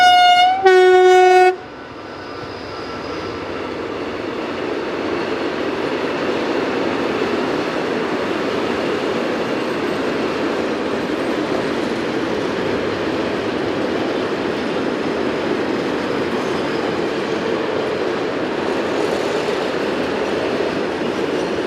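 A freight train rolls steadily past on the northern approach to Gevry Yard, a continuous heavy rumble of wagons lasting throughout, opened by a short loud two-tone horn blast at the start.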